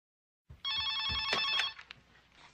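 A telephone bell rings loudly in a horror film scene, one sustained electronic ring after a short silence, followed by faint handling sounds.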